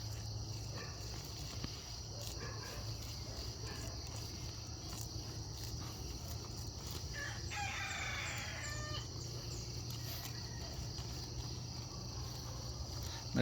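A rooster crows with a hoarse, strained voice around the middle of the clip, fairly faint against steady background hum and insect chirping, with no talking.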